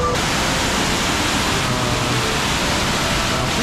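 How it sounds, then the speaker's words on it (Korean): Broad steady rushing roar of a high-volume waterfall in Vietnam, loud and constant throughout with no talk. "야, 폭포 저기 있네."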